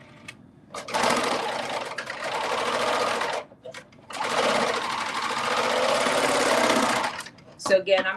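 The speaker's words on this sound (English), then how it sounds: "I think I'm gonna serge this edge too" Serger overlocking the edge of a fray-prone fabric while making a face mask, running in two long, loud, close bursts separated by a brief pause, with a short clatter near the end.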